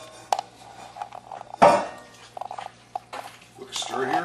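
Spoon stirring chili in a pot, heard as a few close scraping clinks against the pot, with one louder knock in the middle and some rustling toward the end.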